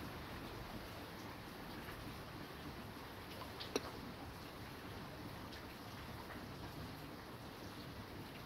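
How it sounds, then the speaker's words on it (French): Rain falls steadily during a weak March thunderstorm as a faint, continuous hiss with one brief sharp crack partway through, and no voices. "Une belle pluie qui arrive là."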